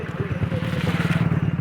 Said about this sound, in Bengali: বাইক যাচ্ছি, কত গাড়ি যাচ্ছে।